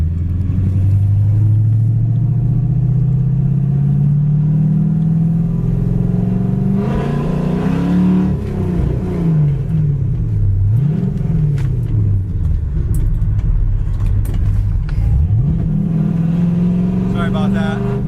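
A 1966 Ford Fairlane 500 XL with a 3-speed column shift pulls away from a dead stop, its engine note climbing steadily, then dropping and rising again through gear changes, loud and rumbling with brief voices underneath.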